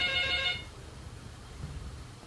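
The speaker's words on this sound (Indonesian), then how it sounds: "Di ujung telepon sudah tersambung." A telephone rings once for a call-in on a radio talk show, a short bright electronic trill lasting about half a second, then fading into quiet line hiss.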